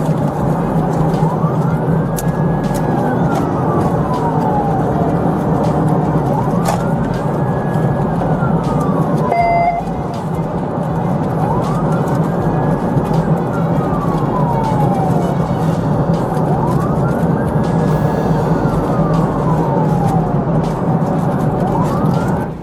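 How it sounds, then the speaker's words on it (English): Police car sirens wail in repeated rising-and-falling sweeps during a high-speed pursuit, steady and loud over a constant engine and road roar, with faint radio chatter. "A pursuit began with lights and sirens activated."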